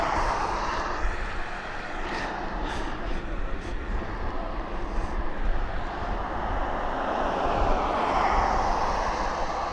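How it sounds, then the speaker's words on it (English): TUI airliner lining up on the runway at East Midlands Airport, a broad, steady jet engine roar with a slowly shifting tone, heard from a distance and continuing without break, with no voices. "So it's our TUI just lining up right now."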